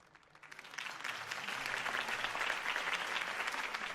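Crowd applause at a Harvey Dent campaign rally in Batman: The Telltale Series, swelling from a quiet start into sustained, dense clapping from many hands that holds steady at a moderate distance.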